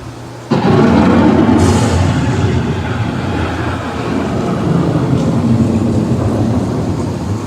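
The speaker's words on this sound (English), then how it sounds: "The approaching storm may seem violent and destructive to us" An approaching thunderstorm bursts in with a loud rumble of thunder over heavy rain, the roar swelling then settling into a sustained, dense downpour with further distant rolls.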